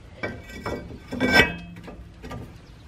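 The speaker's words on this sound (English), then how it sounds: "And now I could put the new rear rotor on." A new rear brake rotor for a 2007 Cadillac Escalade is slid onto the hub, giving a few close metallic scrapes and clanks, with one louder ringing clank in the middle.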